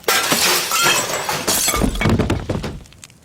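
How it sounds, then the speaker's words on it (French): A loud burst of a window pane shattering on an upper floor, with shards crashing and tinkling for a few seconds before the sound thins out. "Quelque chose avait brisé une des fenêtres de l'étage supérieur."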